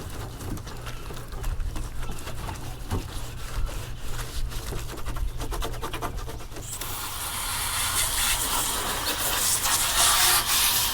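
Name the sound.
scuffing car body panel before painting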